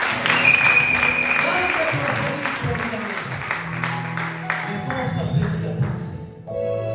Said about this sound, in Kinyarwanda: Mukutire Yesu amashyi.